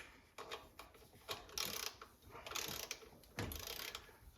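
Ratchet clicking in short bursts as a bolt is tightened during an EGR valve install on a 1995 Ford Bronco, a handful of quick close-up ratcheting strokes with pauses between them and no talk.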